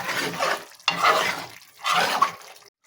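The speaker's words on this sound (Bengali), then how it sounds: "এবার একটু নাড়াচাড়া করে দিই।" A spoon stirs bottle gourd and egg with cumin-coriander powder in a pan, three distinct scraping, sizzling sweeps close up, separated by short pauses, ending in silence.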